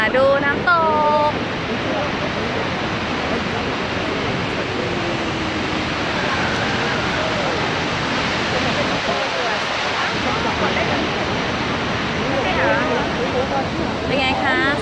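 Snoqualmie Falls, a large, powerful waterfall among mountains and pines, gives a steady broadband rush of pouring water that holds level throughout, with voices chatting over it at times.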